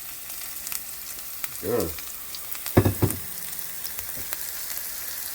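Food sizzles as it browns in a pan, giving a soft steady crackle that continues throughout, with brief voices speaking over it.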